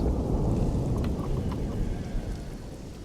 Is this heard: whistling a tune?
no